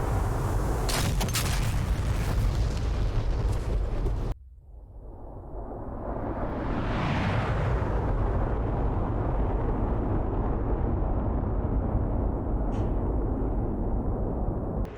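A heavy bomb blast from an F-15E Strike Eagle strike on a port in DCS World, one loud broadband boom after steady cockpit engine roar, followed by a long rumbling roar that swells and slowly fades.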